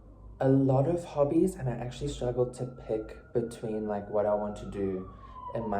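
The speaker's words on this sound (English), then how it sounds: "Sorry about the siren." A police-type siren passing outside wails faintly in a slowly falling tone beneath steady close talking by a single speaker.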